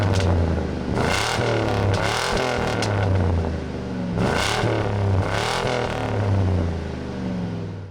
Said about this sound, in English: Take a listen to that exhaust.